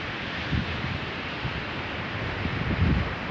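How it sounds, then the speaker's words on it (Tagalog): Steady typhoon wind rushes outdoors by a river in a broad hiss, with low gusts swelling a few times and no voices. "malakas po uli ang hangin dito dahil may bagyo na naman pong dumating dito sa amin"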